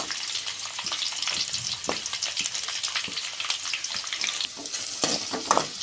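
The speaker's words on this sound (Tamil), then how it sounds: "பூண்டு நல்லா வதங்கட்டும்." Garlic fries and is stirred in a pan for a brinjal and dried fish thokku, giving a close crackling sizzle with scraping stirs and sharper pops near the end, no voices.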